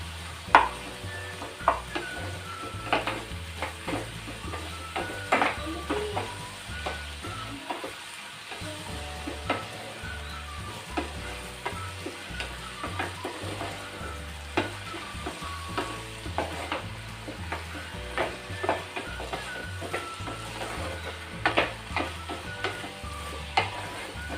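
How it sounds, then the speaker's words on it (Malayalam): Tomato and chili sauté in a pan with a steady sizzle, broken by regular scraping and clattering stirs that repeat throughout at close range. "എല്ലാം കൂടി ഒന്ന് നമുക്ക് ഇതിൻ്റെ ഒരു പച്ച മണം പോകുന്നവരെ ഇതിലേക്ക് ഒന്ന് താളി വരുന്നവരെ നമുക്കൊന്ന് വഴറ്റി കൊടുക്കാം"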